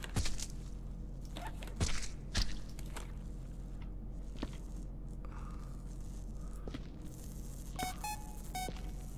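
In the video game Viscera Cleanup Detail, a series of rapid electronic beeps sounds near the end, after scattered footsteps and scraping thuds over a low background hum.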